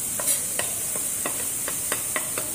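Miniature cooking pot of fried rice being stirred, a steady series of light scraping clinks repeating roughly every quarter second over a faint sizzle, close and alone.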